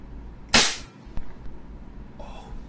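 A Cybergun Desert Eagle airsoft pistol fires a single sharp, loud crack close by, followed by a faint click and quieter background noise.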